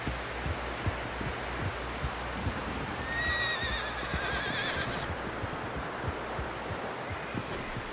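A horse in Red Dead Redemption 2 gives a high whinny partway through, over a steady rhythm of clip-clopping hooves and low background rumble.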